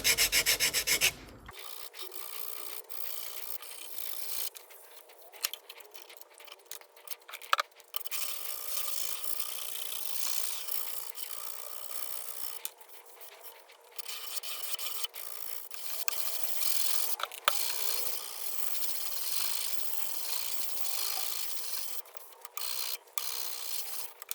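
A knife blade with pitting hand-sanded on 320 grit sandpaper, continuous close rubbing and rasping strokes that run on for a long stretch, with brief pauses between passes.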